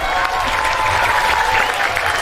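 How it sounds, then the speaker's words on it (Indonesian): Audience applause at an Indonesian gathering where a government minister addresses Islamic boarding school students, a dense steady wash of clapping held at an even level throughout. "Tepuk tangan untuk kita semua."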